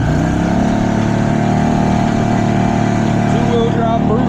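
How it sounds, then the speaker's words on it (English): A two-wheel-drive Brute four-wheeler ATV idles steadily close by in a snowstorm, its mid-pitched engine drone constant and loud, with a slight rise in pitch toward the end. "About to hop on the four-wheeler."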